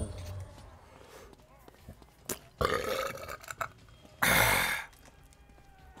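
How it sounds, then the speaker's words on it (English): A person gives a loud, drawn-out burp near the end, after a short throaty sound and scattered bumps and shuffling nearby. "That burp tasted like pink lemonade vodka"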